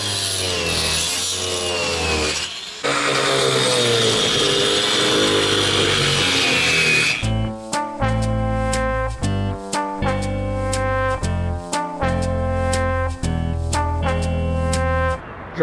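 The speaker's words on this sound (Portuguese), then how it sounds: "Então eles estão cortando, serrando" Workers cut and saw through the floor of a balcony on an apartment in Canada, a loud, continuous harsh rasp that gives way to rhythmic bursts of cutting strokes, close and steady throughout.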